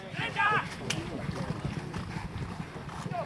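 Polo horses' hooves thud and clatter during the final of a polo match in La Baule as the horses spin and turn, with a commentator talking over the uneven galloping beats.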